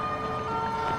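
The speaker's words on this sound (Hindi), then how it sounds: "खुदा का शुक्र है कि एम्बुलेंस आ गई" An ambulance siren wails steadily, a sustained tone held through the full second with road and traffic noise underneath, no voices.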